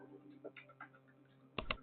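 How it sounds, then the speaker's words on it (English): A single press of the Enter key on a computer keyboard during a Windows 11 tutorial: a sharp double click near the end, louder than the voice talking just before it. "and then press enter on the keyboard."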